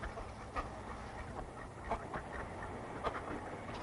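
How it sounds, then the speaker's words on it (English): Ducks quack at the Jack Daniel distillery in Moore County, Tennessee, a few scattered quacks rising above steady background noise. "the ducks comes out here and they clean this place up here"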